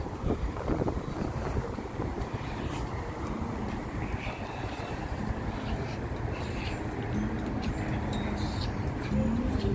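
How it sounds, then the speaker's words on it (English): Strong wind blowing outdoors on a Las Vegas night, a loud continuous rumbling roar buffeting the microphone for the whole stretch, with no talking. "this wind is getting obnoxious"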